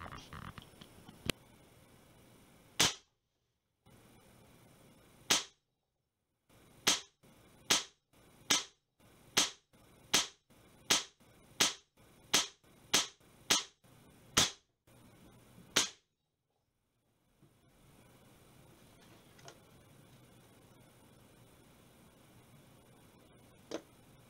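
A Piledriver .50 caliber air rifle fires indoors, with about fourteen sharp, loud cracks at a steady rhythm roughly a second apart, separated by short silent gaps.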